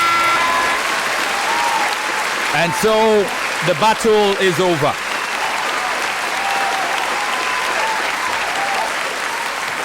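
After a contest speech, a crowd's applause fills the whole clip as a steady wash of clapping while a voice talks briefly over it.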